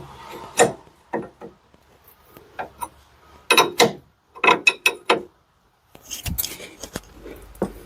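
Ratchet wrench torquing the new inner tie rod nut on a 2007 Dodge Ram in a garage, heard as clusters of sharp metallic clicks in short bursts with brief pauses, fairly close and clear.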